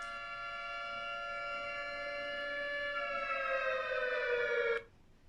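A steady civil-defense-style siren wail from a government alert announcement holds one sustained tone for almost five seconds, rising slightly in pitch toward the end before cutting off abruptly.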